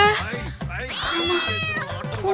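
A cat yowls loudly in drawn-out, baby-like cries, several rising and falling wails close by, mixed with people talking.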